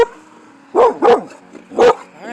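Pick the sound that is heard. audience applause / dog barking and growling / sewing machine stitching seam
dog barking and growling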